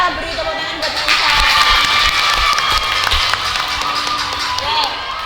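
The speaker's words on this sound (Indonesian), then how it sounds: "kita beri tepuk tangan buat Alisa." Classroom applause for a student in a guidance lesson: a dense wash of clapping from a small group, steady and moderately loud across several seconds, with some chatter mixed in.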